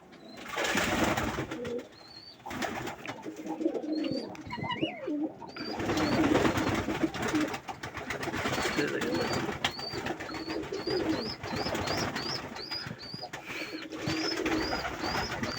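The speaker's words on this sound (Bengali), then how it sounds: "আজকে আমি আমাদের কবুতরকে গোসল করাচ্ছি। দেখেন কত সুন্দর করে গোসল করতেছে" Pigeons coo and flutter amid splashing water as they are bathed, with a steady rush of bathing noise and repeated high chirps in the background.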